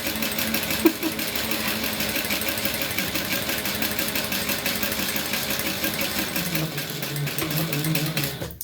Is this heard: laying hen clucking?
no